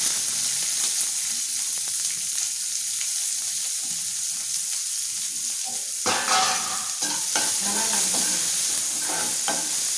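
Steady sizzling and crackling of finely chopped onion and dried chilies frying in a pan, with stirring scrapes growing busier partway through.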